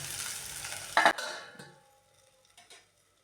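Onion and gram flour frying in oil for onion sagu, a loud crackling sizzle with stirring and a sharp clatter of a utensil near the start, then dropping off to quiet with a few faint clicks as the pan is covered.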